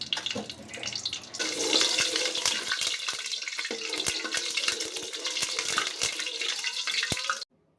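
Ghee hits a hot cooking pot at the start of biryani cooking and breaks into a loud, steady hissing sizzle that holds for several seconds with scattered crackles, then cuts off abruptly.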